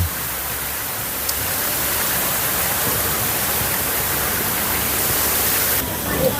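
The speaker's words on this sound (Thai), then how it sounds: "ข้างหลังมีน้ำตกด้วยนะ" A waterfall behind a cafe in Hua Hin gives a steady, loud broadband rush of falling water that fills the whole stretch without pause.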